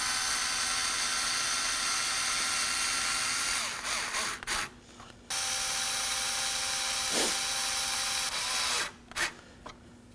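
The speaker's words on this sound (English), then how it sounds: "Now we can tighten the bolts." Bolts being snugged down on the AC condenser cooling fan assembly of a 2014-2020 Acura MDX, heard as a steady whirring hiss broken by a few short tool bursts and brief gaps, with no one talking.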